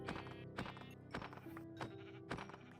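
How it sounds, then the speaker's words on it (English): Sheep in the video game Minecraft bleat a few times in short repeated calls over a steady game background, fairly close and clear with no talking. "I gotta get these sheep up out of here."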